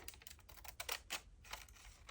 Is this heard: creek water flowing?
no